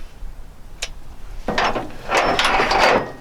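A breaker bar works loose a stuck coolant temperature sensor on a C10 Stepside pickup, giving a sharp metallic click followed by bursts of grinding, ratcheting mechanical noise close to the microphone.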